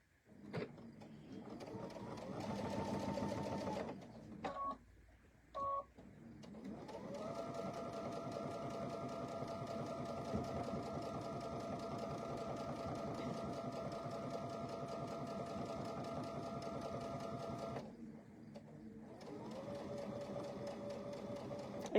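A sewing machine stitches a fall pumpkin pillow in long, steady runs of rapid needle chatter. The runs are broken by brief pauses, and the sound is close and fairly quiet.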